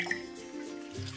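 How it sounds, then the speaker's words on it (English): Water squeezed out of cooked spinach drips and trickles in a steady stream at close range, with faint wet squishing, no voices. "we're going to squeeze as much water out"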